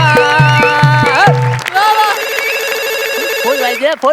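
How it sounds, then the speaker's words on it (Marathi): A telephone rings in a comedy sketch: a few repeated electronic bell trills in a steady rhythm, then a sustained tone as people talk over it, all loud and close. "फोन वाजला."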